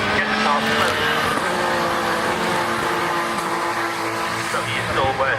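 A British Touring Car Championship race car in qualifying, its engine note droning steadily and shifting pitch as it slows after a braking error, with commentary talk running over the engine noise throughout.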